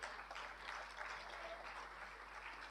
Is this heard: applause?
yes